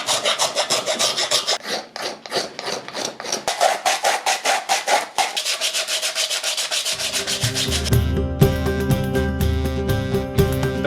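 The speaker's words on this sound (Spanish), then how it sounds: "Así que ahora pasamos a la etapa final: escofina y lijado." A wood rasp files and sands a handmade wooden cup in repeated close, scraping strokes with a steady rhythm, then gives way to a harsher, continuous grinding rasp.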